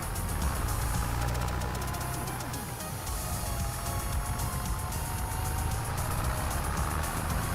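Tractor engine in Farming Simulator 25, a steady, unbroken drone with a low rumble and a broad hiss across the whole stretch, running constantly without any voices over it.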